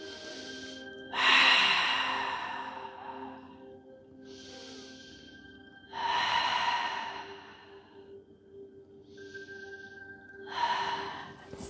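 Slow, deep breaths during a stress-relief yoga session: three long drawn inhales and exhales, each swelling then fading, close and clear with no talking.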